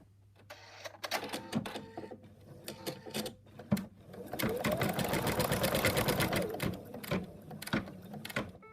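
Embroidery sewing machine stitching down an elephant trunk applique, rapid mechanical needle chatter in bursts that settle into a long steady run, with a few knocks and handling noises between.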